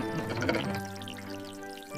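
Cartoon tap running with water pouring and trickling over music-like tonal background, steady and moderately loud for about two seconds before easing off.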